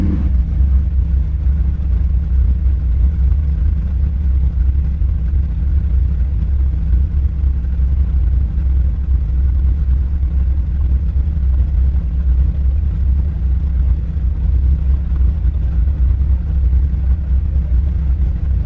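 A barn-find bagged Chevrolet C10 truck with an LS engine runs at a steady warm-up idle, a loud, close, continuous low rumble that never lets up and has no voices over it.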